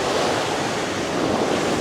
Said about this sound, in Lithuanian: Jėzus, kokius bangelis.